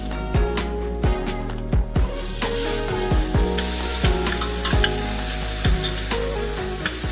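Garlic, onions, cumin seeds and a bay leaf sauté in oil inside a pressure cooker, a steady sizzle broken by repeated scraping strokes of a spoon against the pot, close and clear with no talk.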